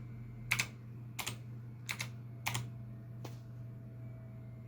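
Someone types a password on a computer keyboard while setting up a newly built gaming PC: five distinct clusters of key clicks spaced about a second apart over a faint steady hum, close and alone.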